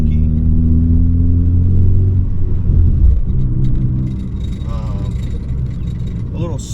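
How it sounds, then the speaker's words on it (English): A Ford Focus ST fitted with a Sidewinder turbo kit rumbles loudly from the cabin as it drives, its engine note rising and wavering with an uneven sputter, while a voice speaks over it. "Turbo sounds a little funky."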